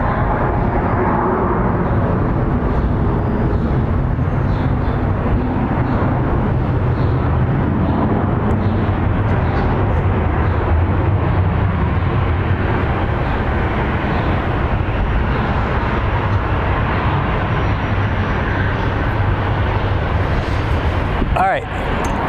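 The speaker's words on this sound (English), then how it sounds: "our final plane of the night is going to be ABX 105 coming in from LAX" An ABX Air cargo plane arriving from LAX at Phoenix Sky Harbor International Airport, a loud, continuous broadband jet roar filling the whole stretch, with a brief sharp sound near the end.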